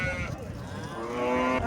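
A cow at a farm gives a long, sustained moo lasting more than a second, close and fairly loud, with no talking over it.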